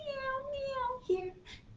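A human voice imitates a cat in the Old MacDonald children's song, singing a few drawn-out, gliding meows one after another, fairly close and soft.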